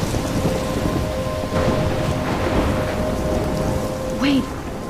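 A thunderstorm in the Life is Strange video game: heavy rain pours steadily under low rolling thunder, with a brief higher sweeping tone near the end.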